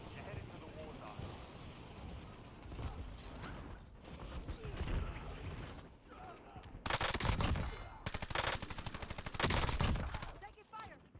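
Overwatch gunfire rattles out in rapid automatic bursts, loudest in two dense volleys near the end, mixed with game effects and voices talking.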